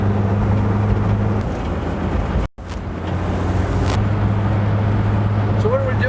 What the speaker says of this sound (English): That's full throttle right there.